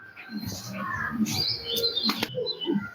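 Pigeons at a pigeon sale chirp and coo close by, with a few short wing flutters and sharp clicks over a continuous murmur of birds.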